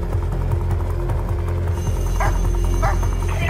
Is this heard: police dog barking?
yes